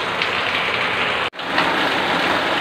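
Steady rain falls outside, a dense even hiss of drops on surfaces with a brief dropout in the middle and no voices over it.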